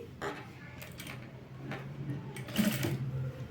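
A sewing machine runs in short bursts, stitching folded leaf-model piping on fabric, its motor hum and needle ticking close and fairly quiet, with brief pauses between runs.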